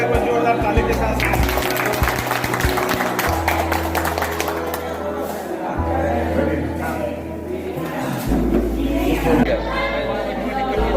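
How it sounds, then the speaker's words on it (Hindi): Members of a group at a Kamakhya Temple trip gathering applaud Ankit, a sustained mass of clapping mixed with crowd chatter and voices talking throughout. "सभी सदस्यों से आग्रह कि अंकित जी का जोरदार ताली के साथ"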